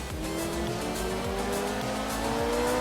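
A car slows, handbrakes and slides through a turn while racing, its engine droning steadily with a rising whine as the tires scrub and squeal, continuous and close throughout.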